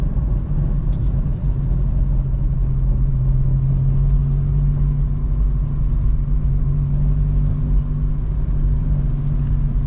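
Mk2 Jetta with a manual gearbox being driven, its engine giving a steady, loud low drone and rumble from inside the car, with no clear revving changes and no talk.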